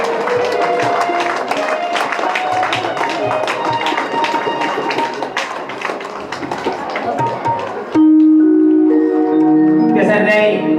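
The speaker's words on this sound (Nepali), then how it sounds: "सम्पूर्ण सुन्दर साथीहरूले पनि तालीद्वारा सम्मानमा सहभागी जनाइदिनु हुनको लागि म हार्दिक अनुरोध गर्दछु।" A crowd applauds at a ceremony honouring Shree Charandas Siwakoti Maharaj in Jyamirgadi, Jhapa: dense, loud, sustained clapping for about eight seconds, then it stops abruptly and steady tonal music takes over.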